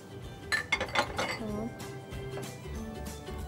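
A spoon clinks against a dish while stirring lemon juice, vinegar and salt, in a few quick bright taps followed by quieter scraping, with someone talking throughout.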